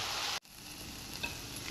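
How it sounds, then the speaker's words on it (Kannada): Drumstick leaves with chilli powder and salt fry in a pan for egg bhurji, a faint steady sizzle with a brief break and a light stir. "ಸೊಪ್ಪನ್ನು ಚೆನ್ನಾಗಿ ಫ್ರೈ ಮಾಡ್ಕೋಬೇಕು."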